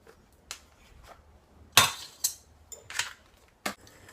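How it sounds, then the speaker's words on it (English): Potato masher working butter into cooked potatoes for shepherd's pie: a few irregular clanks and scrapes of metal against the pot, one louder knock among them, close by with quiet gaps between. "I always mash in my butter before I add my milk"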